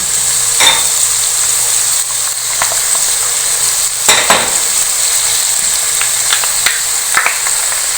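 Pieces of meat frying in oil in a pot for degi haleem, a steady close sizzle throughout with a few louder crackling bursts and faint stirring clinks, no voices.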